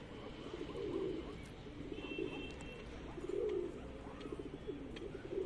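A Punjabi chatri pigeon coos in repeated soft, throaty bursts about once a second, fairly close, over a low background hum.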